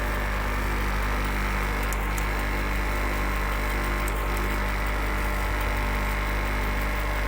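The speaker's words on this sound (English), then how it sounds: "Here our motor is running" A lab electric motor runs under test with a steady, loud, continuous hum and low vibration, unchanging throughout, with no talking.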